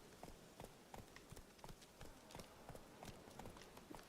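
Quick, fairly quiet hoofbeats from Roach, the horse in The Witcher, clip-clopping in a running rhythm of repeated clustered strikes.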